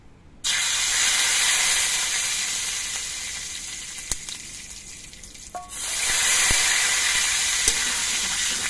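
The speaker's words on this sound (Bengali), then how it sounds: "এর মধ্যে আমি অল্প করে একটু কালো সর্ষে ফোড়ন দিয়ে দিচ্ছি" Black mustard seeds crackle in hot oil with fried dry red chilli while tempering sour dal, a loud broadband sizzle starting abruptly, easing, then surging again, with a few sharp pops standing out.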